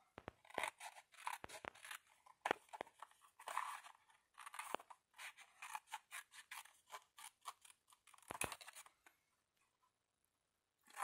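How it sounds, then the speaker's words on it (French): Small scissors snip along drawn lines while cutting out a paper roof piece for a craft castle, quiet close crisp clicks and crunches in irregular bursts, then a near-silent pause. "même pas j'arrive à couper sur les lignes. Mais ça, c'est parce que j'ai les petits ciseaux"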